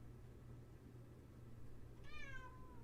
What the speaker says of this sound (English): That's my cat, Ellie.